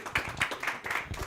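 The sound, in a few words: audience applause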